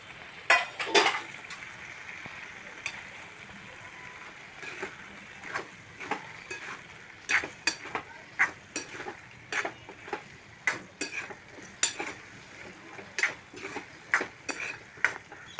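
Taro (arbi) pieces going into a pan of arbi bhaji masala with the gas off, followed by a steady run of sharp spoon-on-pan scrapes and knocks, close and moderately loud, with no voices.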